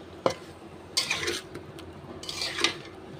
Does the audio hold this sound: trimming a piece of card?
no